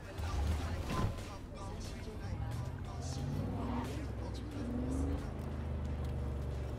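A car in Cyberpunk 2077 drives with a steady low engine drone and some rising rumble, while a player talks over it.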